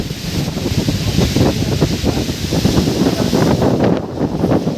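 Strong gusting wind in a village during a storm, with rough water waves nearby, roars and buffets the microphone loudly and continuously, dense and rumbling without any speech.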